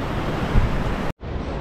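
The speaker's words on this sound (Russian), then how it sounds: "Альбуфейра, собственно, самый главный пляж, сам город." Surf and wind on Albufeira's main beach in Portugal, a loud, steady roar of breaking waves and blustery air, briefly cut to silence before resuming without speech.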